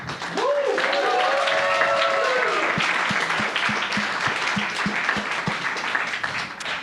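Applause from a panel-discussion audience at a hotel event rises loudly and holds steady as broadband clatter, with a voice talking over it early on and scattered sharp claps standing out toward the end.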